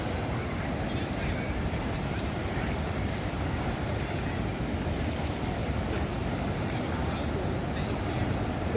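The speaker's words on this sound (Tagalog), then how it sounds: "Ang lalaki ng alon" Big ocean waves roll in at Bolinao beach in Pangasinan, Philippines, a constant broad wash of surf mixed with wind buffeting the microphone.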